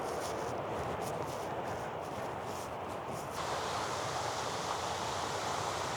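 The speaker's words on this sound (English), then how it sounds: "It's so peaceful to listen to the sound of the creek going down." A creek rushes down toward a waterfall near Bondhusvatnet in Norway, a continuous broadband roar of flowing water that is steady and close throughout, briefly brighter in tone partway through.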